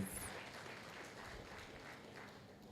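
An audience at an entrepreneurship lecture applauds, a faint, steady wash of clapping heard at a distance throughout.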